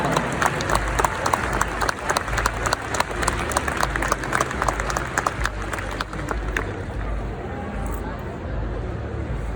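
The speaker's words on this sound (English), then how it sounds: "round of applause for all of them" A crowd at an agricultural show cow competition applauding, dense rapid clapping that carries on steadily for several seconds before thinning out toward the end.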